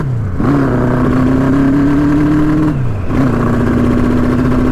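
A 1983 Honda CB1000 Custom motorcycle engine idles loud and close, running rough with a steady uneven drone, briefly dipping twice as if stumbling before settling back, with no voices present.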